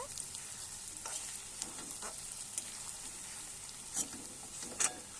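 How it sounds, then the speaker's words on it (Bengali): Onion, chilli, garlic and ginger sizzle and crackle in a hot pan, with occasional scraping stirs and a few sharper pops, close and fairly quiet. "ওটা একটু ভাজা হচ্ছে।"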